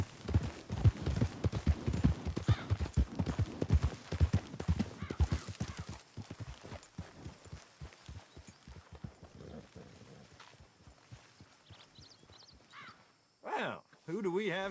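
Horse hooves clip-clop in a steady, close walking rhythm in Red Dead Redemption 2, then slow and fade out, with voices talking near the end.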